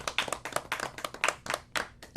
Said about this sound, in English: Clap it up for this whole situation.